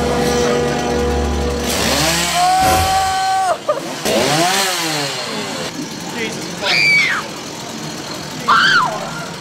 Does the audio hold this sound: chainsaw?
yes